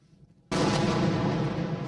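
An Israeli missile strikes a building and sets off a sudden loud explosion after a brief quiet moment, followed by a sustained heavy roar that rumbles on.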